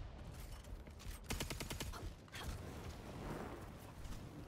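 A flaming bow firing in the video game Concord, a quick rapid train of sharp mechanical clicks and snaps near the middle, set against a steady game background with a few softer impacts.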